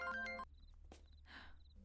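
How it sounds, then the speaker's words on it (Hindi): A ringtone-like phone ring in a movie scene plays as a short steady chiming tone during the first half second, then cuts off, leaving faint room noise, brief rustles and a shuffling movement. "फोन आ रही baby, phone baby, baby phone"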